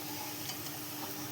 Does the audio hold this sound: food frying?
yes